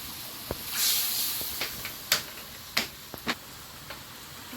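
Tamarind water hits hot oil seasoned with dried red chili, panch phoron and mustard seeds, giving a soft hissing sizzle broken by scattered sharp pops and crackles.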